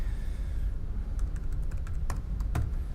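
A password is typed on a computer keyboard: a quick run of about a dozen light, close key clicks in an irregular rhythm over a low steady room hum.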